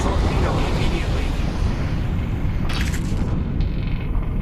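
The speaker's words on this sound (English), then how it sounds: "Jack, it's launching. Get clear of the torpedo immediately." A torpedo launching in Lone Echo II sends out a loud, steady, low rumbling roar that holds the whole time, with a brief brighter hiss partway through and a voice talking over it.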